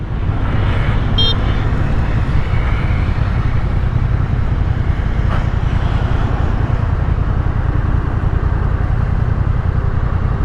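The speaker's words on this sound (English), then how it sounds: "there goes the second group of Honda riders" A group of Honda motorcycles on demo rides passes by during a motorcycle rally, a steady loud engine rumble and road roar heard from the saddle of a riding motorcycle, with wind noise throughout.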